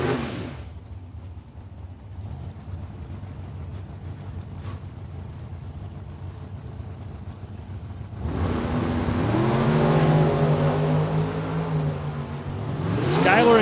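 Two drag racing cars, a white Chevrolet Camaro and a Holden Calais, at a Super Pro event. A low engine drone builds into a loud revving rise partway through, with announcer commentary over it.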